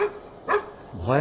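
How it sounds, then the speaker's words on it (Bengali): A dog in a bamboo grove lets out short whining yelps and a rising, drawn-out crying howl, loud and close, in brief bursts separated by quiet gaps. "হঠাৎ বাঁশবনের গভীর থেকে কুকুরের কান্না শোনা গেল"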